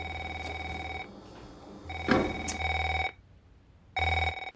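A telephone rings as a film sound effect, in repeated bursts of a bright electronic ring separated by quiet gaps, with a louder clunk or knock in the middle; close and clear.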